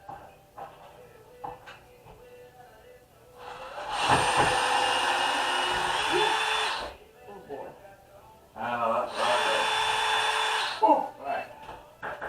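Power drill loosening a wall stud during removal of a safety wall, two sustained whining bursts of several seconds each, close and loud, with people talking briefly between them.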